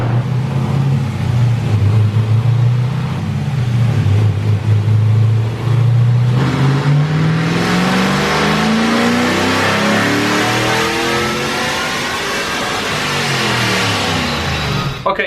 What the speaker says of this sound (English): we'll do a full throttle run just to see how this single titanium exhaust actually sounds at full lick